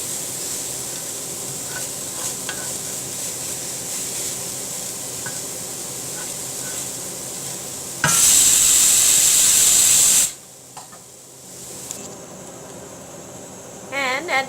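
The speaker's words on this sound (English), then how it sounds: "Let this splatter, and now I'm using the chopped ginger garlic" Chopped ginger and garlic hit hot oil in a pan, a loud close sizzling hiss that bursts in suddenly, holds for about two seconds and then drops back to a quieter steady crackle.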